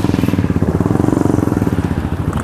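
Motorcycles at a bike rally on the Polo Ground in Patiala, a loud close engine throbbing in a fast, even pulsing rhythm throughout, with no talk over it.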